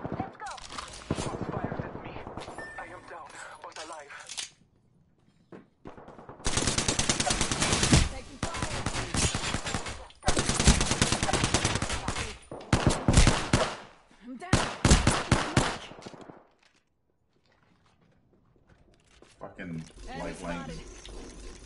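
Video game gunfire comes in long, loud bursts of rapid automatic shots broken by short pauses and near-silent gaps, with voices talking over parts of the firing.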